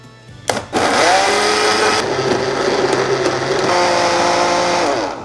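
After a short clatter, a blender roars to life and grinds garlic, salted shrimp and water for kkakdugi radish kimchi at close range, a loud continuous whir that holds to the end.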